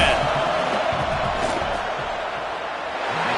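A football stadium crowd roars steadily during a field goal attempt, a loud, sustained wash of cheering and noise with a commentator's voice faintly underneath.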